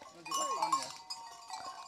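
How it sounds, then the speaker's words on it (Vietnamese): Bleating from a young goat that cannot yet walk well, heard in a pen: several short, wavering cries close by, mixed with other farm noises and brief human voice sounds. "Con dê bé đầu tiên không biết đi ấy."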